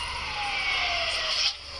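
A police siren wails in the Bus Simulator video game, heard as a faint, wavering tone that shifts slowly in pitch over a low steady background.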